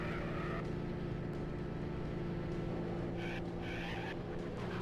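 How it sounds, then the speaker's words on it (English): Car brakes skidding in the 1996 DOS racing game The Need for Speed SE, a continuous engine drone with brief squealing tire and brake bursts layered on top, steady and fairly loud. "The brakes. Look at the best. They sound like fucking drum brakes or something."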